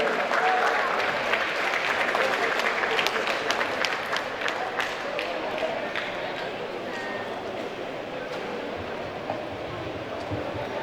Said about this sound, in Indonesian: Persilakan kita berikan tepuk tangan dahulu kepada beliau